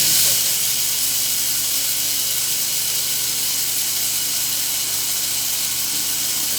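A food processor grinds coffee beans into a coarser powder, a loud, steady whirring roar with a hissy, gritty edge that runs without pause from start to finish.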